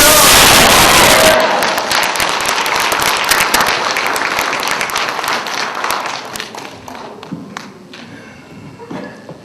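Church congregation bursting into loud applause and cheers of hallelujah, a dense roar for the first second or so, then scattered clapping that thins and fades over the following seconds.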